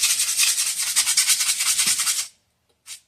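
Abrasive rubbing on a copper female adapter for PEX plumbing, roughed up before sweating: a steady, close scraping stroke for about two seconds that stops abruptly, then one short final rub after a pause.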